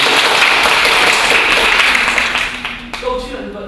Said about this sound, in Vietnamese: một tràng pháo tay nữa